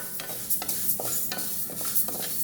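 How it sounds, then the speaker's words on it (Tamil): Rice and moong dal dry roasting in a pan, with a steady soft rustle and repeated scraping strokes of a spoon stirring the grains, close and continuous with no talk. "2 கப்புக்கு அரை கப்பு அளவு பச்சை பருப்பு போட்டு இந்த வானலில் வறுக்கணும்"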